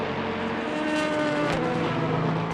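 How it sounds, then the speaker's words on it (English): Le Mans race cars exiting turn 4 at Portimao, their engines roaring loud and close in a continuous blended howl, with pitch shifting as the cars pass. "Very busy indeed for three cars exiting turn 4."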